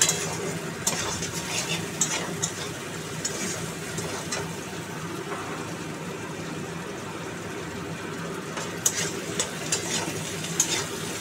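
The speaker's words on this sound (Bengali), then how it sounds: "দিয়ে আলুটা পেঁয়াজটা একটু ভাজা ভাজা করবো।" Potato and onion fry in a pan with a steady soft sizzle, while a spoon scrapes and stirs now and then, close and alone without talk.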